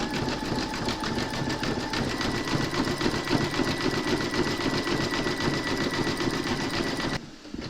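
An embroidery machine stitches a zigzag border around raw fabric edges on a hooped sunflower coaster, giving a steady, fast mechanical whir with rapid needle ticking. It runs loudly and evenly with no talk, then cuts off near the end.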